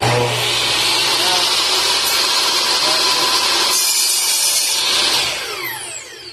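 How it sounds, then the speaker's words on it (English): A compound miter saw, or chop saw, spins up and cuts through wood with a loud, close, continuous whining buzz, then winds down near the end. "So start the saw before you hit the material."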